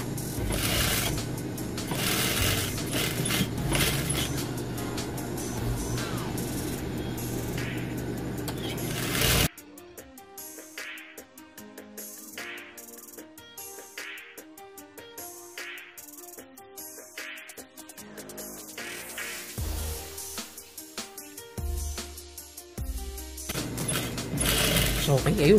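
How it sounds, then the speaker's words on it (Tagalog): A sewing machine stitches fabric over an elastic garter for a dance costume, giving quick mechanical clatter in bursts after a stretch of noisy background, with someone talking over parts of it. "Tatahiin mo lang yung tela, iipitin mo yung garter, pero hindi mo siya, hindi siya matatamaan ng tahi sa loob."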